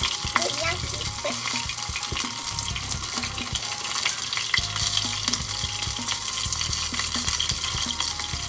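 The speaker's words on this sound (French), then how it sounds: "Quand ça pétille, ça veut dire qu'il faut retourner" Kara-age chicken deep-frying in hot oil gives off a dense, bright, continuous crackle and hiss, close and loud, with small pops throughout.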